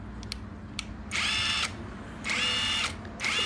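A repaired cordless battery impact driver whirs in three separate bursts of about half a second each, with short pauses between them, loud and close with no talking.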